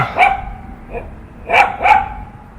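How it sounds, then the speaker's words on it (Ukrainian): A small dog barks a few times at a castle estate in rural Zhytomyr region, Ukraine: sharp, high yaps in an uneven pattern, fairly close and clear with light outdoor background. "Той малий пес там щось гавкотить."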